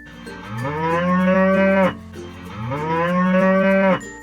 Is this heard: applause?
no